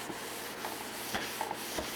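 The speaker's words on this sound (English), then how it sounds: "And you just keep wiping it." A cloth wipes solvent over a car body panel to lift wax and grime, a soft, continuous close rubbing swish with faint rhythmic strokes and no talk.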